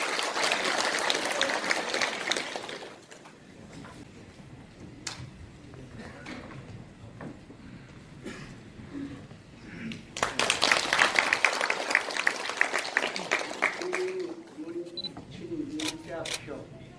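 A meeting audience at an election of a new president bursts into applause, first a dense burst then scattered claps and camera shutter clicks, swelling again later under a speaking voice.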